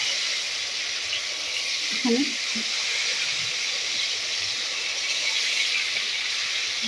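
Fish frying in a pan, a continuous loud hiss of sizzling oil with a brief voice speaking over it.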